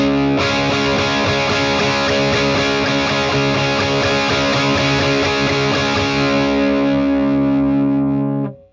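An electric guitar plays through a DIY volume pedal with a boost circuit, set to full volume with heavy distortion. A strummed chord rings loud and thick and sustains for several seconds before cutting off.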